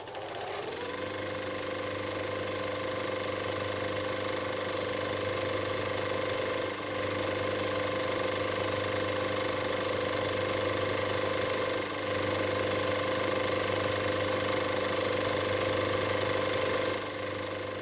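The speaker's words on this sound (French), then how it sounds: "il y a une personnalité qui a fait un tracteur télécommandé" A remote-controlled tractor from a 1967 archive recording in Mars-la-Tour runs steadily and loudly nearby, its motor giving a constant droning hum with a mechanical rattle that holds throughout without pause.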